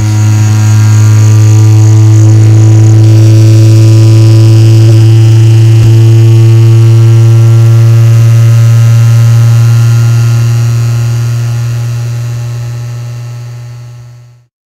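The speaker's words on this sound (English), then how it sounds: "This test will send frequencies from 5 Hz to 133 Hz through the X axis, and you can hear the vibrations waxing and waning as it happens." During an input shaping resonance test, the X axis of a 3D printer running Klipper vibrates with a loud, steady droning buzz. It holds for several seconds, then gradually dies away, with no voices.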